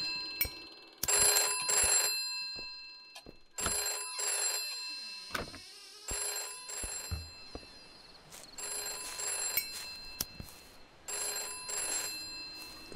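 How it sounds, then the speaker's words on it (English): A telephone rings in bursts in the horror game MOR, repeated clanging bell rings separated by short gaps, loud and close, with other faint game noises between the rings. "Don't pick up the phone."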